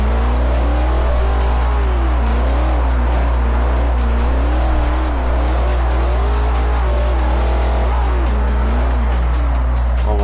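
A Camaro in Forza 4 taking corners, its engine loud and close, revving up and down in wavering pitch sweeps as the car is driven hard, with faint tire noise beneath.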